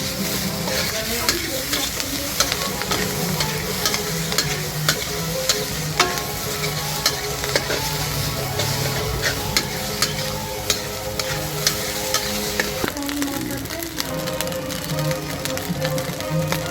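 Durian fried rice stirred in a hot pan, a loud continuous crackling sizzle broken by constant rapid scraping and tapping of a spatula against the metal.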